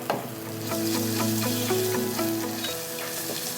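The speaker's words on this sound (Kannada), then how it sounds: "ಶುಂಠಿ ಮತ್ತು ಬೆಳ್ಳುಳ್ಳಿ ಇದನ್ನು ಪೇಸ್ಟ್ ಮಾಡಿದೆ ಇದನ್ನು ಹಾಕ್ತೀನಿ" Ginger-garlic paste sizzles steadily in a hot pan, a continuous close frying hiss with crackle throughout and a faint tonal hum underneath; no one speaks.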